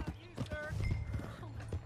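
Horse hooves clip-clopping in the video game Red Dead Redemption 2, a few uneven hoof strikes under overlapping voices and a brief horse snort, close and moderately loud.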